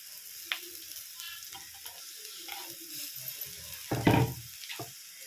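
Cooked rice, fresh coriander and raw onion fry in a pan for fried rice, giving a soft sizzle broken by small clinks and stirring scrapes, with a louder burst of sizzling near the end.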